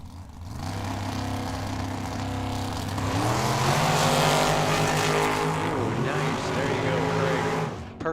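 A Ford-powered rear-engine dragster with a 565 cubic inch engine races at Tucson Dragway, its engine roaring loud and rising in pitch through the run, then cutting off abruptly at the end.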